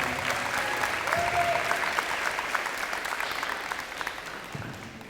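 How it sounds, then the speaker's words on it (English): An audience at a high school letter-of-intent signing ceremony applauds the district cross country and track coach. The clapping is steady, moderately distant and sustained throughout, with no talk over it. "Round of applause, Coach Juan Gonzalez."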